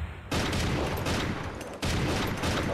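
Rapid gunfire from a double-shot weapon in the video game Strike Force Heroes 3 rattles in two dense bursts with a short gap between them, loud and continuous.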